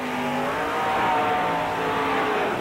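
A 1931 Chevy Coupe four-wheel-drive mud racer in the cut tire class roars loudly and steadily as it starts its run at a mud racing event, with engine tones shifting but no voices.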